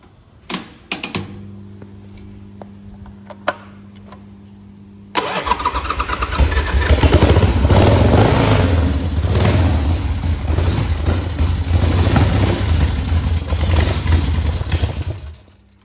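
A 1979 Harley Davidson 1000cc Ironhead Sportster with a wiring defect and a carburetor issue is cranked with a few clicks and a whirring starter, then fires and settles into a loud, close, lumpy running rumble.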